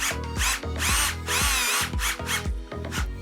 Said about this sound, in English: And using the included self-tapping screws as well as a drill, I'm gonna slowly